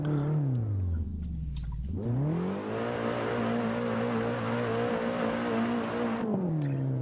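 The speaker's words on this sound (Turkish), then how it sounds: "Araba bir de böyle ıkırıyor ya." A BMW E30 engine in Assetto Corsa drifting on an icy lake, dipping low, then revving back up and holding a loud, strained whine before dropping again, with no voices.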